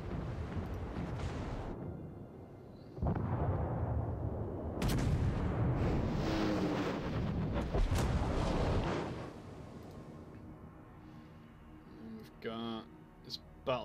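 Battleship guns in the World of Warships video game fire in heavy booming salvos, each blast followed by a long rumbling roar, with several loud reports over about ten seconds before quieter clatter near the end.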